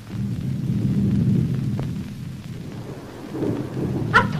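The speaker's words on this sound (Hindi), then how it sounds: "वो देखो उस पहाड़ी पर बारिश शुरू हो गई।" Monsoon rain and thunder over a hillside in August: a deep rolling rumble dominates at first, then eases into steady rain, and a sharper crack of thunder breaks near the end.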